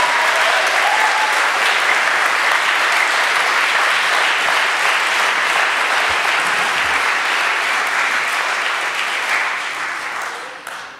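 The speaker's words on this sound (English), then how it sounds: "I think the choir deserves another rousing round of applause." Sustained audience applause for a choir at an interfaith Holocaust memorial service, a dense steady clapping that holds evenly for about ten seconds before tapering off at the end.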